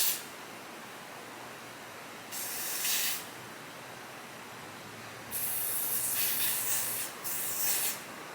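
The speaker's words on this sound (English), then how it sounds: "And I'm gonna do 3 layers of lace spray for this wig." Lace spray misted onto a 13x6 deep wave lace frontal wig in three close, hissing bursts: one short, then a longer double spray near the end, with no talking.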